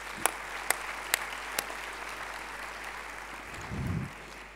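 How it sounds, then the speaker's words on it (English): Applause for professors at a spring graduate commencement: a sustained crowd clapping, moderately distant and even, with a few sharp clicks early on and a low thump near the end, no talking. "I really want to applaud each and every professor at AUC."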